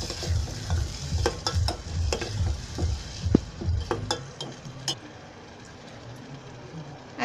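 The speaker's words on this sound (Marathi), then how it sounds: "तो वाटलेला मसाला आहे ना तो तेलामध्ये असा जरा थोडा फिरवून घ्यायचा" Ground masala paste stirred and fried in hot oil for the tempering of kokam sol kadi, with a steady low sizzle and repeated spoon scrapes against the pan that ease off and grow quieter toward the end.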